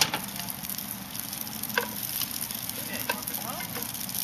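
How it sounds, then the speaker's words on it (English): Steady sizzling of penne and pesto in a hot pan, a continuous crackling hiss with occasional small pops and a faint stirring sound, close up. "Starting to hear it sizzle."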